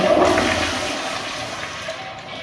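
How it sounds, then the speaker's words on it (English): A 1990s first-generation American Standard Cadet pressure-assisted toilet flushing, a loud, forceful rushing whoosh close by that starts abruptly and tapers off over a couple of seconds. "See a flush."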